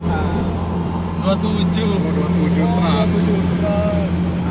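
A bus on a highway, probably headed to Bandung, passes close by with a loud, steady engine roar, heard from inside another moving vehicle while people chat.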